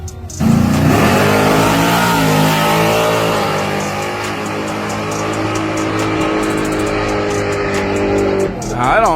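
A loud race car engine revs up and holds a high, rising whine for several seconds before dropping off, with people talking underneath.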